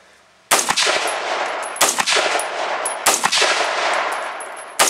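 A 6.5mm Grendel rifle fires loud shots outdoors, with several sharp blasts about a second apart and a ringing decay after each, with no talk.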